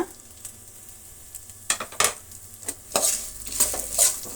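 Chopped ginger and garlic sizzle in a hot pan while a spoon stirs them. The stirring comes in several sharp scraping and clattering bursts over a steady frying hiss, with no voices.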